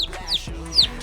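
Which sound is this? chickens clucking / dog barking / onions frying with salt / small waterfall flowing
chickens clucking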